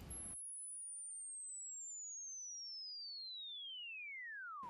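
A pure sine wave tone generated in ocenaudio, sweeping smoothly from very low to about 11,000 Hz, clean and alone for several seconds, bracketed by short bursts of noise at each end.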